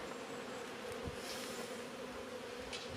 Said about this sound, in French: Donc là on voit des abeilles avec du pollen.